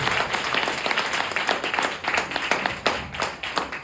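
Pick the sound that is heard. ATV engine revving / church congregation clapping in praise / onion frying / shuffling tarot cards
church congregation clapping in praise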